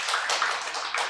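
A short burst of steady, dense clapping fills a church gathering in Seoul as the congregation applauds mothers, even and moderately loud for about a second with no voice over it.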